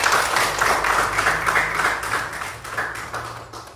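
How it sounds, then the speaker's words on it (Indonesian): A classroom of students applauds a group for their answer, dense steady clapping from many hands filling the room and fading slightly toward the end. "Jadi Bapak minta tepuk tangan dulu sama kelompok"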